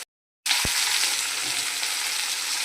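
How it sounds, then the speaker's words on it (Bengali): Vegetables sizzle in a hot pan while being cooked for a vegetarian Bengali dish, a steady close hiss that starts abruptly after a brief silence, with one small clink early on. "সবজিটা আমার ভাজা হয়ে গেছে।"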